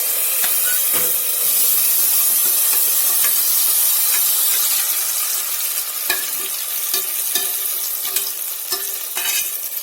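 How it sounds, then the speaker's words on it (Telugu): Soaked potatoes go into hot oil for aloo dum biryani and fry with a loud, bright, continuous sizzling hiss. Scattered crackles and pops come through as they cook, with no talking. "నూనె కాలింది. ఇప్పుడు మనం నానబెట్టుకున్న ఆలుని తీసి దీంట్లో వేసుకోవాలి."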